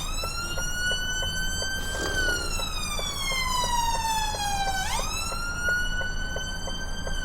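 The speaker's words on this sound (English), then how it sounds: "Ambulance can get through though" An ambulance siren wails through gridlocked traffic near Derby, a loud continuous tone sweeping slowly down then jumping back up, over a steady engine rumble from a heavy goods vehicle cab.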